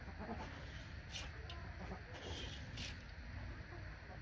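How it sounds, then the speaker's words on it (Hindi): Quiet, scattered clucks and murmurs from chickens over a low background hum, soft and a little distant, with no talking. "मुर्गियाँ जो है वो खोल दी हैं और दानों का इंतज़ार कर रही हैं"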